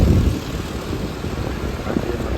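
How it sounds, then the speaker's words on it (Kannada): An airplane passing overhead near Bengaluru's airport, heard as a steady, broad low rumble that holds level throughout without any sharp events. "ಫ್ಲೈಟ್ ಹೋಗ್ತಿದೆ ಬಟ್ ಕಾಣಲ್ಲ."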